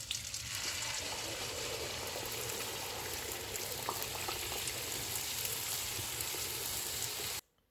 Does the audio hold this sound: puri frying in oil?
yes